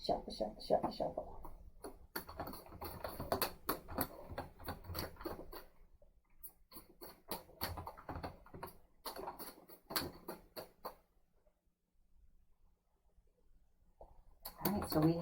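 A deck of tarot cards being shuffled close by, a dense patter of rapid riffling clicks in bursts, with a brief quiet stretch before more handling.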